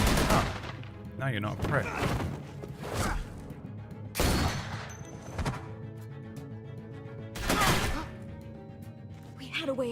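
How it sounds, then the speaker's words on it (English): Gunfire in The Walking Dead: Telltale Season 3 comes as several sharp, loud shots spaced across the scene, with characters speaking between them. "I hear gunfire."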